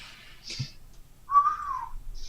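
A person whistling to imitate a hunting owl, giving a short, faint, wavering whistle near the middle with a soft breathy sound before it.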